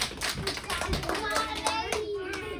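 Children in a classroom clap for a team of classmates after their presentation, a light, scattered patter of hand claps with a voice and a few taps mixed in.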